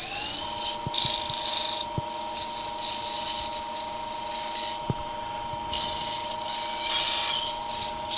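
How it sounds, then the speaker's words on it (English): A turned wooden bowl spins on a lathe under a steady motor whine while fine abrasive is pressed against it in light passes, giving soft rising and falling rasps and a few small knocks. "I'm just going to go over it with a little bit, very delicately, with a little bit of fine abrasive."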